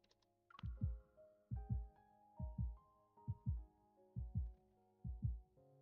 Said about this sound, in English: Do plants have heartbeats?